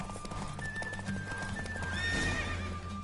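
Horse hooves clatter in a quick galloping rhythm during a race in The Witcher 3, with a neigh near the end and a faint game soundtrack tone underneath.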